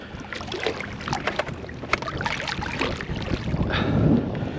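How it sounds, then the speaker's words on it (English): Strong wind gusts across a river, buffeting the microphone with rough, continuous rumbling and a brief louder surge near the end, with no talking. "This wind is cooking me."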